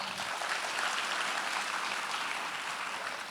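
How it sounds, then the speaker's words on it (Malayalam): A packed audience at an institute of technology event claps steadily, a dense, even wash of applause that holds for several seconds without a break. "നല്ലൊരു കൈയടി കേൾക്കാവോ?"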